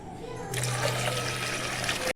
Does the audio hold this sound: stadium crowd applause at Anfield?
no